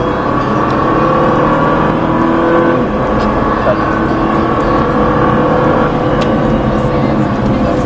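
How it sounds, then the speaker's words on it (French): A car accelerates hard on a race track, its engine revving loud and continuous throughout with a steady, dense roar, while an instructor's voice can be faintly heard over it. "Très bien, commence à réaccélérer de plus en plus fort."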